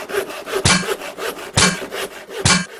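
A handsaw cuts through wood in steady back-and-forth rasping strokes, each push marked by a sharper scrape roughly every second, close and loud with no voices.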